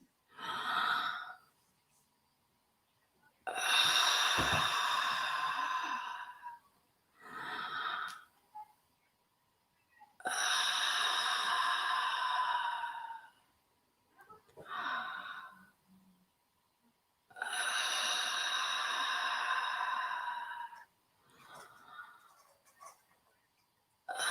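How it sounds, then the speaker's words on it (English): Slow, deep breaths during a guided self-love affirmation session, several long airy inhales and exhales separated by quiet pauses, close and fairly soft, with no talking. "we're going to do 5 deep breaths"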